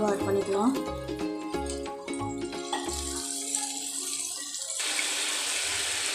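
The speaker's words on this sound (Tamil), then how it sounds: "தண்ணி தேவையான அளவு ஆட் பண்ணிக்கலாம்." Water runs steadily and splashes into a cooking pot, starting after some clinking and continuing as a constant rushing stream.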